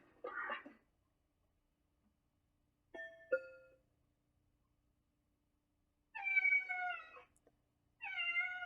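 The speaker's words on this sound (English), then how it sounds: "That's a cat sound." A cat meows several times: one short call, a brief mid-clip mew, then two longer drawn-out meows near the end, each standing clear against silence, with no talk.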